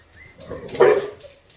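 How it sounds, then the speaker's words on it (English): Dogs give a short bark and some whimpering, rising to one loud, close yelp before fading, with quieter whines on either side. "they make the dogs go crazy"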